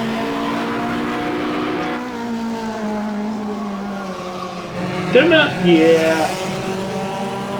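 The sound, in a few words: Lotus Cortina race car drifting in the video game rFactor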